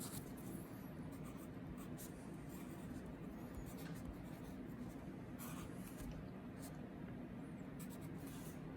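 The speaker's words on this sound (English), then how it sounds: "I want to write that down" Pen or pencil writing numbers by hand on paper, a soft continuous scratching and rubbing that runs steadily and close throughout, quiet and unaccompanied by talk.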